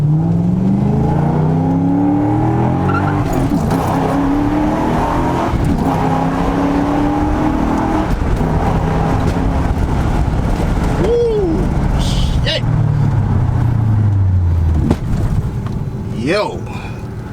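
A tuned Audi B7 S4 accelerates hard through the gears toward a 7,500 rpm redline, engine pitch climbing in repeated sweeps with shift breaks, heard from inside the car while someone talks over the roar.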